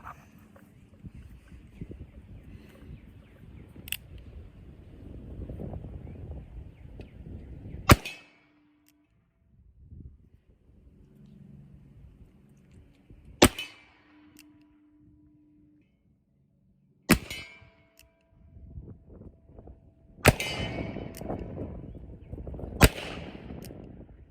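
Gunshots from a cap and ball revolver loaded with homemade black powder: five sharp, loud cracks spaced a few seconds apart, with low rumbling handling noise and wind between shots.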